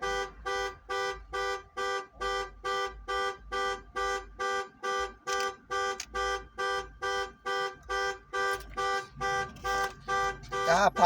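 A parked car's alarm blares a honk-like tone in a steady, rapid pulse, repeating about twice per second for the whole stretch, loud and close, with a brief burst of other noise at the end.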